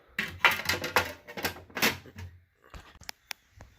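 Metal door of a Westinghouse OV-50 700 W mercury vapor street light fixture being handled and refitted, giving a run of close clanks and scrapes, followed by a few sharp separate clicks and taps.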